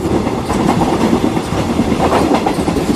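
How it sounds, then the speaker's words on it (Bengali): A train speeds along in a dense, loud, continuous rumble with rhythmic clatter from the wheels, steady and close throughout. "ট্রেন আগের মতোই প্রচন্ড গতিতে ছুটে চলেছে।"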